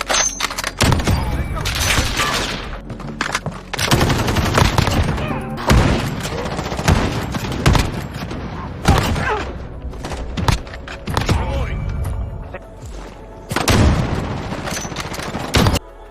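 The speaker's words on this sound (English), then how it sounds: "Shooting guns sounds like you're actually discharging a lethal device" Dense video game gunfire from Call of Duty Modern Warfare, with sharp, loud rifle and machine gun bursts, rapid volleys and booming impacts recurring in waves with short lulls between them.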